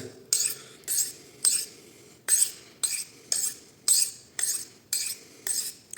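A blade scraping rhythmically across a whetstone, about a dozen even strokes, each a bright rasping swish with short pauses between.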